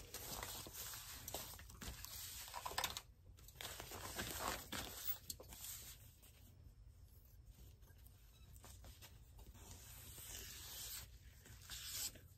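A plastic tablecloth is cut with scissors, making repeated crinkly snips and rustling handling noise, close and continuous, with no voices.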